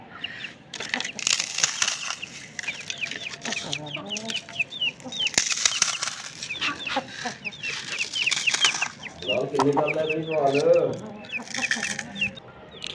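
Aseel chicks cluck and chirp close by in a busy cluster while soft feed is poured in, with scattered rustling and a few flaps; a louder burst of clucking rises near the end.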